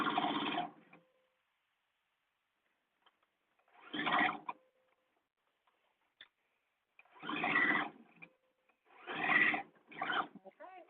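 A sewing machine stitches a blouse in short separate bursts, each roughly a second long with quiet gaps between, close by and moderately loud.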